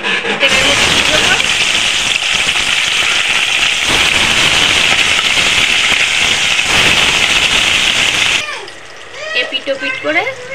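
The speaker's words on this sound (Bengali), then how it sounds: "এবার একটা একটা করে মাছগুলোকে তেলের মধ্যে দিয়ে দেব।" Small chela fish dropped one by one into hot cooking oil set off a loud, dense sizzle and crackle for about eight seconds, then the frying settles lower as a voice briefly comes in.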